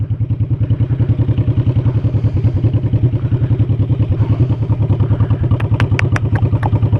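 A motorcycle engine idles and putters close by with a steady low chugging rhythm, a few sharp clicks near the end.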